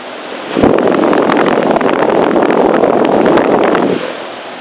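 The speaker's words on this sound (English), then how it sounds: "you can hear the compressor really well" A 1997 Lennox heat pump compressor runs outdoors as a loud, close, broadband whooshing roar that starts abruptly, holds steady for about three seconds, then drops away.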